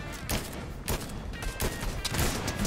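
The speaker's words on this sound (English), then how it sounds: "I shot Castaway Jonesy." Gunfire from the video game Fortnite, with several sharp bursts of shots spaced irregularly over a steady background of in-game noise, fairly loud and close.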